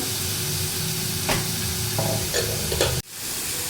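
Finely chopped onions frying in a pan, a steady close hiss of sizzling oil with a few stirring scrapes, cut off abruptly near the end before the sizzle resumes.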